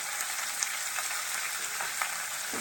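Potato and paneer sizzle steadily in hot oil in a pan with salt and turmeric while being stirred, with small scraping taps over a constant frying hiss, close and fairly quiet, no voices.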